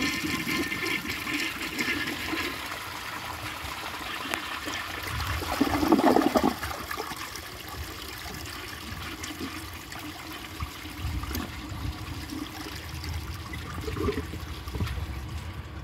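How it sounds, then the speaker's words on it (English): A 1965 Nationaline concealed siphon jet toilet with a weak flush runs through a full cycle: a brief louder gush around the middle, then a long steady trickle and refill hiss, heard close with no talking. "considering it's a concealed siphon jet toilet with a weak flush"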